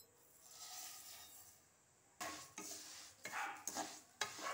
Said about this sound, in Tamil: இப்போ இதில் சேமியாவை இதில் வறுத்துடணும்